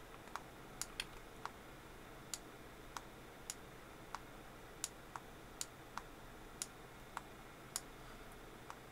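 Sharp clicks from the buttons of an SF30 Pro Bluetooth gamepad used with a Nintendo Switch, about a dozen crisp, close taps at an uneven rhythm over faint background hiss, with no talking.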